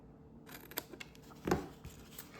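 Scissors snip through a scored strip of card for a pleated fold card, a few short close cuts with one louder crunch midway.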